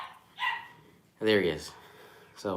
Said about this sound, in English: if you hear any barking, that is my new puppy who seeks constant attention.